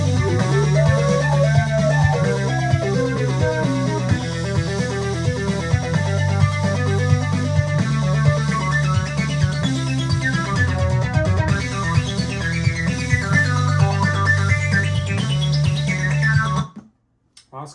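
Dense, buzzy synth tone from a square-wave oscillator synced and modulated by a triangle wave, pitched up and playing a busy, steady pattern for about sixteen seconds before cutting off abruptly.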